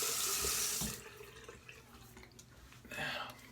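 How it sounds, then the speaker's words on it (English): Running water from a bathroom sink tap splashes loudly as a face is rinsed after a shave, then drops to quieter dribbling and splashing before a second burst of flow near the end. "let me rinse off here and see how that feels"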